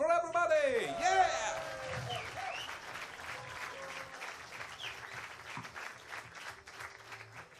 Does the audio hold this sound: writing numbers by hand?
no